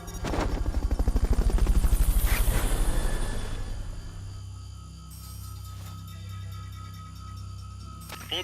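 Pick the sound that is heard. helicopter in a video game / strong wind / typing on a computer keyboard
helicopter in a video game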